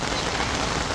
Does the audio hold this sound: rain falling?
yes